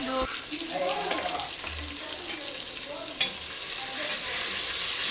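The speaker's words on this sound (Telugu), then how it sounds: "బాగా బ్రౌన్ కలర్లో బాగా వేగాలి." Food frying in a pan until browned, a constant close sizzle with stirring scrapes and a sharp clink partway through, and a voice speaking briefly over the cooking.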